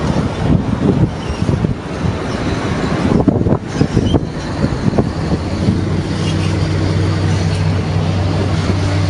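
A VW Beetle converted to electric drive with a 20 hp forklift motor rolls along, giving rumbling road and wind noise early, then settling into a steady tonal motor whine.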